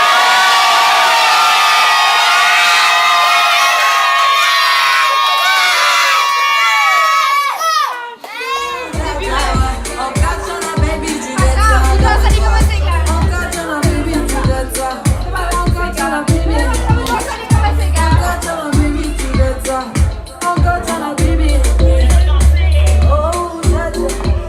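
A party crowd at a 60th wedding anniversary celebration shouts and cheers together all at once, loud and close, with rhythmic bursts following a quieter musical opening.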